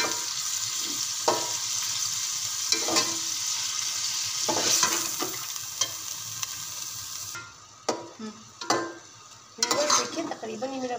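Small pieces of meat fry in a pot for Chinese rice, a constant sizzle with stirring and clinks of a utensil against the pot, close by; the sizzle drops away near the end, leaving a few scrapes.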